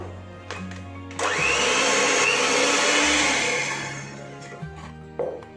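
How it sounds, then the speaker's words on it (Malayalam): An electric mixer beats butter and sugar for a plum cake batter, a steady, loud whirring motor that runs for about three seconds between short starts and stops. "ഇതാ ബട്ടറും അതുപോലെ പഞ്ചസാരയും കൂടി നന്നായിട്ട് ബീറ്റ് ചെയ്തെടുത്തിട്ടുണ്ട്."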